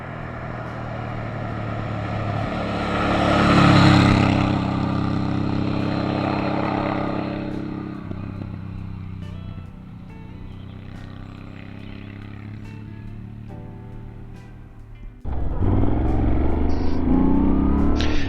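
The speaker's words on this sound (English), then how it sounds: "it's Mike riding the bike now" A Moto Guzzi V7 motorcycle rides out on a cold day, its engine rumbling steadily for most of the stretch with a louder swell early on and a closer, heavier burst of engine noise near the end.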